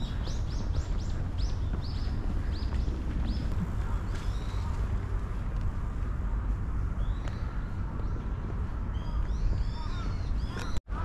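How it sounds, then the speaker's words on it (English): Crows caw repeatedly in Ueno Park, Tokyo, their calls rising over a steady outdoor hum of city and park background noise, with several birds calling across the whole stretch, some nearer and some farther off. "the crows in Japan are much bigger than the crows in America."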